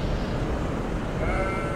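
A sheep bleats in a tornado-chasing video game, the call half-buried in a loud, rough wash of wind and engine noise.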